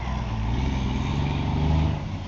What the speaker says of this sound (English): And there goes a car hauler